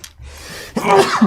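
One short, sharp sneeze bursts out close and loud, preceded by a brief breathy intake, in a quiet room during a tabletop board game session.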